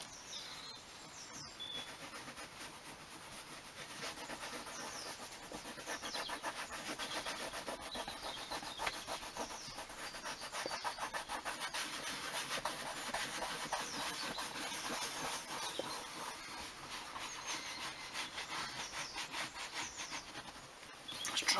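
Steady, close rubbing and scrubbing as leather dye is worked into a Toyota Gen 7 Celica car seat, a continuous quiet back-and-forth friction that runs throughout without speech.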